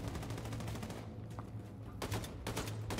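Rapid automatic gunfire with armor-piercing rounds in Wolfenstein: The New Colossus, dense fast bursts that pause briefly near the middle, then resume with heavy, close shots.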